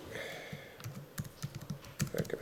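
Keys clatter on a computer keyboard in irregular quick taps, close and fairly quiet, with no talking over them.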